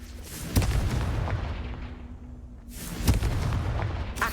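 Two booming fire-spell blasts from the Confringo spell in Hogwarts Legacy, each a sharp crack followed by a long rumbling decay, about two and a half seconds apart.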